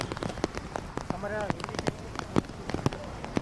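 Rain falling on surfaces in Rajkot city during a downpour, a dense patter of close drops and splashes with a brief voice heard in the middle.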